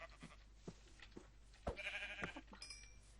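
Faint, thin sheep bleats in Minecraft 1.9 amid soft clicks and light clinking, with a brief tinkly chime near the end; quiet and synthetic-sounding.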